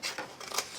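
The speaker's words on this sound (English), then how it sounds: "snip that away, and I'll cut that in a moment." Scissors snip through cardstock in quick, close, quiet cuts, two or three crisp slicing strokes in under a second.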